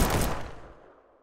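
A loud pistol shot in Streamer Life Simulator, a sharp, close crack at the very start followed by a decaying echoing tail that fades over about a second, heard alone without talk.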